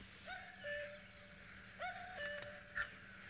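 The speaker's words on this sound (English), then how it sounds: "let me play the common cuckoo for you." A recording of a common cuckoo is played back: the falling two-note call repeats twice in soft, clear tones over a low, quiet background.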